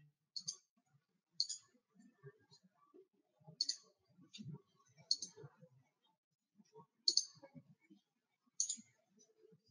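A computer mouse clicks sharply and faintly about six times at uneven intervals, with soft low speech murmured between the clicks.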